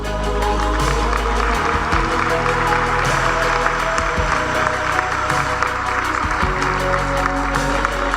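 Sustained, dense applause from a large audience at an award ceremony, steady and even throughout with no voices over it.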